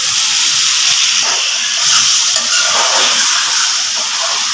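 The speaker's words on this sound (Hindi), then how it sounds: "तो हम अब आलू को अच्छे से भून लेंगे" Loud, steady frying hiss of potatoes cooking in oil in a pan, continuous and close with no talk.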